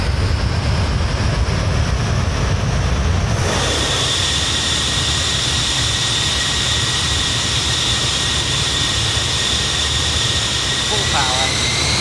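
Avro Vulcan jet engines in a flight simulator spool up to about 80% power for takeoff, a steady loud roar with a high whine that rises and brightens partway through, and a voice talking over it.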